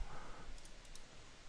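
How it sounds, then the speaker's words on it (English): A computer mouse gives a quick double click, two faint, close taps in rapid succession over a low steady background hum. "Double click on sheet two"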